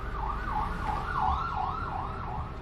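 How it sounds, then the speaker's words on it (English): A police siren wails, rising and falling in steady cycles over low traffic rumble, sounding some distance away. "There are police sirens in the background as well"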